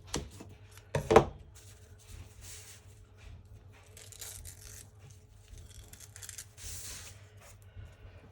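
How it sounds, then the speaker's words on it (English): Scissors snip loose thread bits while a fabric pocket is trimmed in a quiet craft room, giving a couple of faint, short cuts with long near-silent gaps between them. "Even if I just cut the thread bits."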